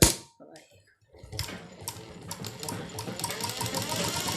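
A sewing machine stitches a palazzo pajama, starting after a short pause and then running in a steady, close, rapid mechanical whir with rhythmic clicking that builds and holds.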